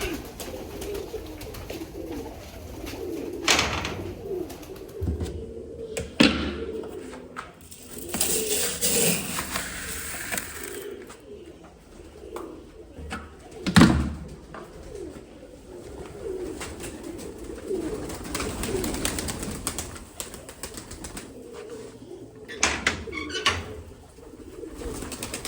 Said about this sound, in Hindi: सारे कबूतर भूखे हैं